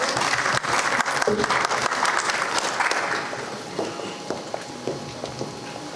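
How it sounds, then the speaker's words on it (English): A crowd at a campaign rally claps loudly for a few seconds, then the applause thins out into scattered claps and fades. "Applause, please."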